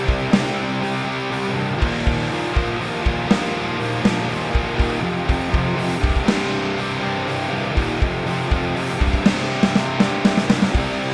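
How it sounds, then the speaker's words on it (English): Several stacked electric guitar tracks play together through multiple simulated amps from IK Multimedia Amplitube 5 in Pro Tools, giving a dense, full, distorted wall of sound with steady rhythmic strumming and no talking. "So now all the amps together sound like this."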